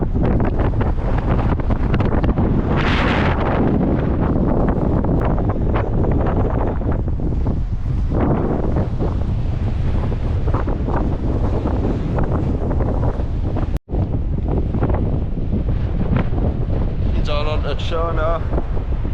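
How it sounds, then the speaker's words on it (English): Strong wind buffets the microphone on a walk in Workington, a loud, constant roaring rumble. A voice speaks now and then underneath it, and there is one brief dropout partway through. "it's like proper windy, innit?"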